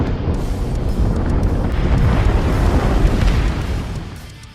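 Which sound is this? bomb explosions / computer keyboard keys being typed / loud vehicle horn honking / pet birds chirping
bomb explosions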